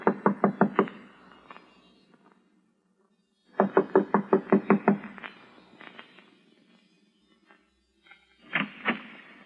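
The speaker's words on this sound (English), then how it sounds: "I'm going to knock on the door now" Knocking on a door in a radio drama, a rapid run of six or seven firm hollow raps, a pause, another brisk series, then two final knocks, close and loud with quiet stretches between.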